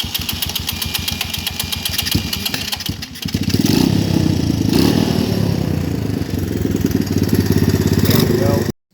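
A Honda ATC 200E three-wheeler engine runs at a rough idle, chugging loudly up close, dipping briefly around midway, then surging to a fuller, louder run before cutting off abruptly, with a person talking over it.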